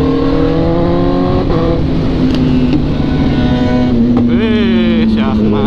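Kawasaki ZX-636 sport motorcycle revving hard on a straight road, a loud, close engine whine climbing and falling through several throttle blips, with a rider talking over it.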